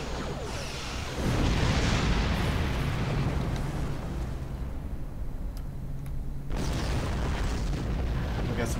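A full spread of starship torpedoes fired and exploding in Star Trek Online, a loud rumbling roar of blasts that swells, holds, dips and surges again, with no talk over it.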